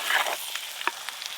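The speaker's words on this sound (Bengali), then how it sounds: "বেরেস্তা দিয়েও বেশ খানিকক্ষণ ভালো করে মাংসটা নেড়ে নিয়েছি" Mutton is stirred and fried with crisp fried onions, giving a steady, fairly quiet sizzle with a few brief scraping stir sounds.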